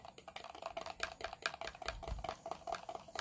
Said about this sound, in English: I'm just going to stir it.